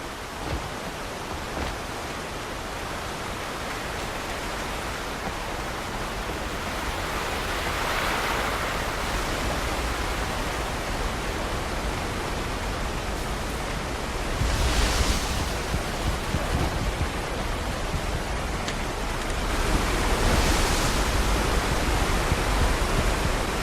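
Rushing river water from the Alan Wake video game, a steady broadband roar of flowing water that holds throughout with a few louder surging swells, with no talk.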